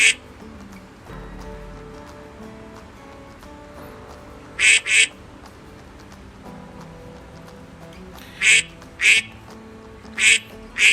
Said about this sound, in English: Okay, this is the duck.